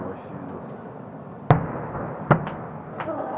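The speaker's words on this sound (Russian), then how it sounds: "Не, классный салютик." Victory Day fireworks salute over Kaluga in 2018: three sharp, separate bangs burst over a steady outdoor crowd murmur, the first two loudest and the third fainter.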